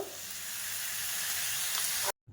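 Chowmein made from two rotis sizzles loudly in a hot pan as a spoonful of soy sauce goes in, a dense continuous frying hiss that cuts off abruptly at the end.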